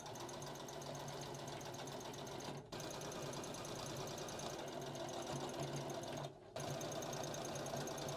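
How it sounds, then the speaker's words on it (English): A sewing machine runs steadily along a gathered skirt seam, its close, even mechanical whir and rapid needle clatter continuing with two brief stops, no talking over it. "So we sew along there and always make sure that we're staying well away from the gathering stitches."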